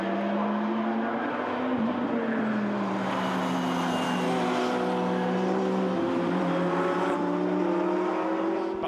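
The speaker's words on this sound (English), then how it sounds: "As the cars now climb up towards Bridge Bend once again" GT race cars lapping Silverstone circuit, climbing toward Bridge Bend: a steady, loud engine drone with shifting pitch as several cars pass, continuous throughout with no speech.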